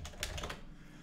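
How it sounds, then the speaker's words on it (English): Quick clacking keystrokes on a new computer keyboard, a brisk run of close taps in the first half second, then trailing off into quiet room tone. "I got this new keyboard, guys."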